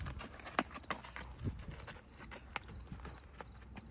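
Hooves of a horse on its first training ride clip-clop at a slow walking rhythm, soft and moderately close, with a few sharper knocks over a quiet outdoor background.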